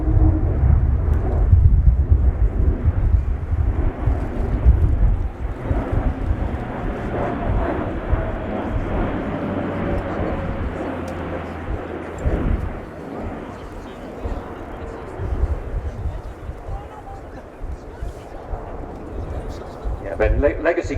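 An Airbus A400M military transport aircraft flying a display at RIAT 2019 produces a loud, sustained propeller and engine roar that slowly fades, with a commentator talking over it.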